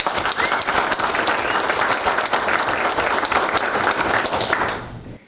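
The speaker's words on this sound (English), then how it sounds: "I'd just like to do a round of applause for Dr. Fair and his experience." An audience at a lecture applauds steadily, dense clapping throughout that fades out at the end.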